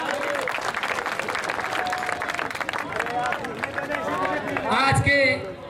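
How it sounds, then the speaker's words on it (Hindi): A crowd at an outdoor dangal wrestling match claps continuously for a wrestler, busy clapping mixed with chatter and a loudspeaker voice, swelling louder near the end. "देखिए आप जोरदार तालियों स्वागत करें इस पहलवान का।"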